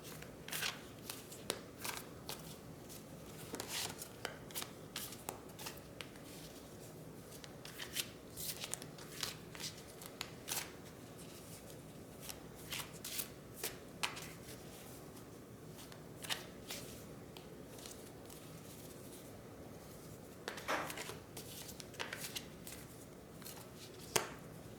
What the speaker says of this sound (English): let's begin our shuffling